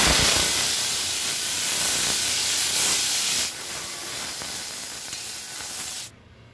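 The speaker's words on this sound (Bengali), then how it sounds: "এরপর আমি চিংড়িটা ভেজে নেব। তেল দিয়ে দিলাম কড়াইতে।" Prawns frying in hot oil in a kadai give off a loud, steady sizzle and hiss that eases partway through, then stops abruptly near the end, with no talking.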